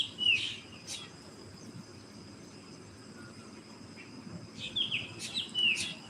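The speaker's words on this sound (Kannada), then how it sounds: "ಬೆಳಗಿನ ಜಾವ ಎಲ್ಲ ಥರದ ಪಕ್ಷಿಗಳು ವಿಚಿತ್ರವಾಗಿ ಸೌಂಡ್ ಮಾಡ್ತಾ ಇರುತ್ತೆ" Scattered early-morning bird chirps, short and high, come in a few clusters from birds on utility pole wires at moderate distance, over a quiet, low background hum.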